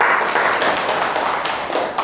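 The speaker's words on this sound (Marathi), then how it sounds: "इथे टाळ्या वाजवा." Classroom applause from students, a dense burst of clapping that fills the whole moment, fairly loud and close, then tapering slightly at the end.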